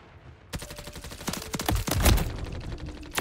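Rapid automatic gunfire from Call of Duty MW3 beta multiplayer, dense overlapping bursts that start suddenly and crackle loudly and continuously for a few seconds, with no talk over them.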